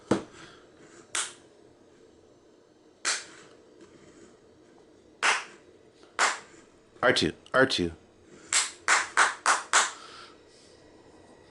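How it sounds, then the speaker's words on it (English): Sharp hand claps to trigger the sound sensor of a LEGO Star Wars R2-D2 droid, single claps spaced apart then quick bursts of several in a row, close and loud, with brief talk between them. "So this one wants me to clap."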